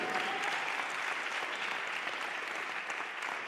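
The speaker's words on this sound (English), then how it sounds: "Let's give a big round of applause." Audience applause for dancer Paulo Gray at a powwow dance arena before his men's fancy dance, a steady, dense wash of clapping from a crowd that holds evenly for the whole stretch, with faint talk underneath.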